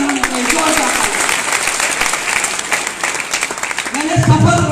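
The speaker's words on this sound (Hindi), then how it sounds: "एक बार जोरदार तालियां चाहिए, जोरदार तालियां" Applause rises from a seminar audience at an AWPL business event, clapping mixed under a loud amplified voice and crowd noise.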